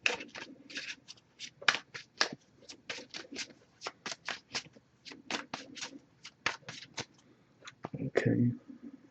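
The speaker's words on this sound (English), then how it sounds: "I'm going to give it a few more shuffles" A deck of oracle cards being shuffled by hand, a quick run of crisp riffling snaps and soft card slaps in an irregular rhythm, close and fairly quiet, ending with a brief muffled rustle.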